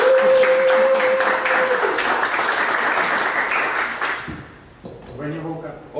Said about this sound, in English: big round of applause for Paolo